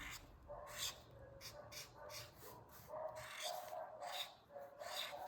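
Dogs barking outside, repeated faint barks at a distance in an irregular series, heard behind soft indoor room noise with no talk.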